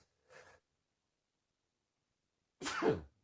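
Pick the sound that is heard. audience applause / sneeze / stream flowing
sneeze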